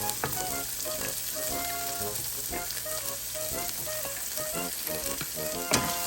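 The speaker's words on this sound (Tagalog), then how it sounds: "So you have to stir it until the onion is cooked and garlic." Onions and garlic frying in a pan while being stirred, with a continuous bright sizzle and intermittent scraping of the spoon against the pan, steady and close.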